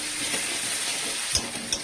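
Ground spices stir-fried in a pan for a Bengali fish curry, a steady close sizzle with a few louder scraping stirs near the end, no voices.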